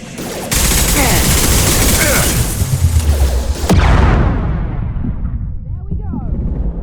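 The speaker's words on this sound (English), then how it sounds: "Shotgun!" Shotgun fire and sustained combat gunfire in the video game Mass Effect 2, a dense, loud barrage of booming shots and blasts that rolls on for several seconds before fading into quieter background noise.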